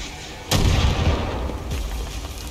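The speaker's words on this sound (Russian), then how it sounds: "Вот так, минометный удар." In Far Cry New Dawn, a loud, sudden mortar blast hits, followed by a rumbling, crackling tail that lingers, with a second softer thump a moment later.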